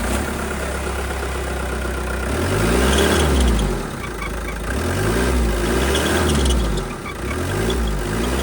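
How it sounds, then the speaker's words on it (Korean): A Hyundai Terracan diesel engine, the same unit fitted to the Galloper 2, runs with a low chugging idle that swells into a few revs and settles back, heard close with no talking. "그 엔진을 똑같이 가지고 있는 테라칸을 통해서 그 엔진 소리를 한번 들어보도록 하겠습니다"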